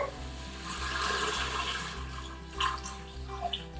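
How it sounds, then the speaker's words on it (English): Water gushes and splashes into a pot of cooked onions to deglaze them, a steady rushing pour with a few gurgling bursts near the end, close and fairly loud. "I'm going to deglaze the onions with some water."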